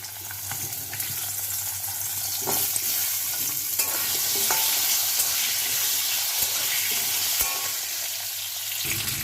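Potatoes frying in hot oil with turmeric and slit green chili in a pan, a continuous loud sizzle with scraping stirs and occasional sharp clicks of a utensil against the pan.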